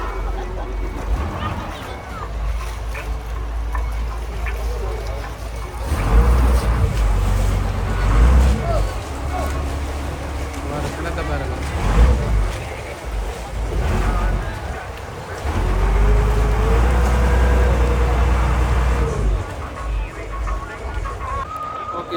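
A large passenger boat crosses the sea to Nainativu island near Jaffna, with loud steady engine rumble, wind buffeting the microphone and waves surging in repeated swells throughout.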